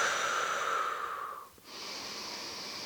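Soft, close breathing during a yoga pose, with a long airy exhale that tapers off, then a fresh steady flow of breath resumes.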